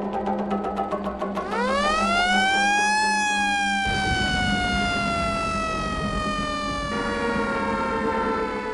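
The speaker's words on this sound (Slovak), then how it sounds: "Čoraz častejšie bolo počuť rev sirén" A loud siren rises in a long wail and then slowly falls, its pitch sliding down over several seconds in a radio play set in wartime with air raids, alone and without voices.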